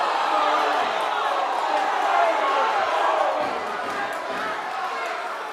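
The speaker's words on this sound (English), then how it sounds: "Lower Cape May crowd did not like that one" A high school wrestling playoff crowd at Lower Cape May, South Jersey Group II, groans and boos at a stalemate call, a dense roar of many voices filling the gym. It swells and then slowly fades while an announcer talks over it.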